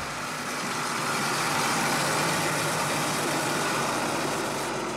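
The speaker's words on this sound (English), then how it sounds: "The old engine has lost power, and Clonel has stalled." Old truck engine running on a rough Haiti mountain road after losing power, a steady, fairly loud mechanical rumble and rattle that holds evenly without voices.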